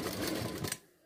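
A sewing machine runs quickly stitching the angled tucks of a lined blouse, a close, continuous whir that stops abruptly near the end, leaving quiet.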